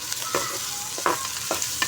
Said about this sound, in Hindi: अब हमने प्याज को अच्छे तरीके से फ्राई करना है।